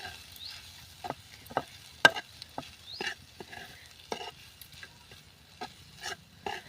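A sweet corn and onion mixture with gram flour is sautéed over a wood-fired stove, giving irregular scraping and stirring strokes of a spatula against the pan under a faint sizzle, close and moderately quiet, with no speech.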